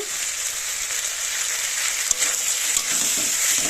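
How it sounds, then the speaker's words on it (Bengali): Ginger garlic paste frying in a pan while being stirred, a steady loud sizzle with occasional scraping stirs, cooking vegetarian fig curry. "এবার আমি দিয়ে দিচ্ছি একটু আদা রসুনের পেস্ট, দিয়ে একটু নাড়াচাড়া করে নেব।"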